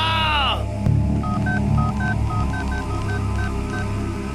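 A telephone number is dialed, a series of short, evenly spaced DTMF keypad beeps over a movie soundtrack with low rumbling music, after a brief falling tone at the start.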